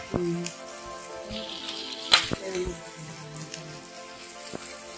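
Spices such as black pepper and fennel sautéing in a pan for a village-style mutton kulambu, giving a steady soft sizzle with occasional stirring clinks and scrapes, while a voice speaks faintly in the background.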